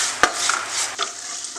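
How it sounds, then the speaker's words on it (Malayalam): A flattened-rice (poha) snack mixture, seasoned with salt, is stirred in a frying pan. A sharp clack is followed by soft, continuous scraping and rustling at close range, with no voices. "നല്ലോണം ഉപ്പും കൂടി ചേർത്ത് ഒന്ന് ഇളക്കി കൊടുത്തതിന് ശേഷം"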